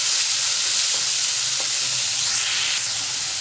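Three large finely chopped onions sauté in hot oil for paneer masala, a loud, dense, unbroken hiss of sizzling that holds steady from start to finish.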